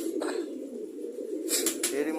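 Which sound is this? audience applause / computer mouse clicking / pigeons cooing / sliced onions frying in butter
pigeons cooing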